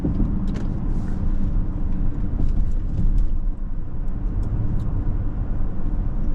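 A Toyota Sienna Platinum minivan (2025) rounds a looping 270-degree off-ramp curve at a brisk pace, with steady low road and engine rumble filling the cabin throughout and no talking.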